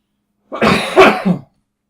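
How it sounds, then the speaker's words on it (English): A single harsh cough with two or three bursts, loud and close, heard alone in a quiet setting during a modded Minecraft session. "I got a really bad cough tonight, so sorry if there's a lot of coughing in the video"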